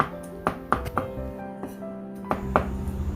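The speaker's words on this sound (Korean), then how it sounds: "마늘 6개는 다져 주세요" Knife mincing six garlic cloves on a cutting board for a Korean gochujang potato stir-fry, heard as a handful of sharp, close chopping taps spaced irregularly with quieter pauses between.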